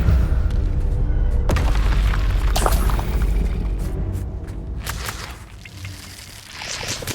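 A spell is cast in the Hogwarts Legacy video game, heard as a loud, dense magical whoosh and boom with a sharp burst near the start and another around the middle, then fading into rumbling game ambience.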